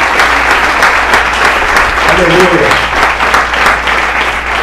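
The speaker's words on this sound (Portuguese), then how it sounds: "Quem concorda comigo, dê glória a Deus e aplauda o Senhor." A church congregation at a Sunday service applauding, dense sustained clapping filling the room, with a voice calling out over it.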